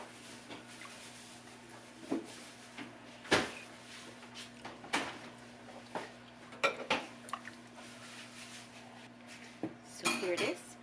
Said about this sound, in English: I'm going to grab a ladle, scoop some in here.